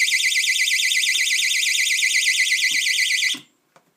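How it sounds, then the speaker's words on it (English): A homemade tripwire alarm strung between trees in the woods, sounding a loud, continuous warbling electronic wail for over three seconds before cutting off abruptly, followed by a couple of faint clicks. "Something comes walking by, sets off the alarm."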